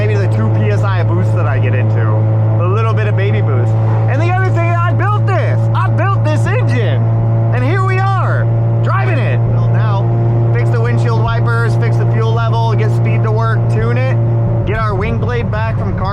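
Mazda FD RX7 rotary with mild boost driven along, a loud steady engine drone with a strong low hum, while someone talks over it at length.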